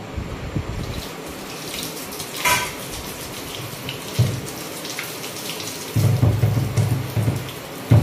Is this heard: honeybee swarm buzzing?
no